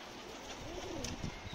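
A pigeon coos up close, a soft throaty rolling call over a low background rumble.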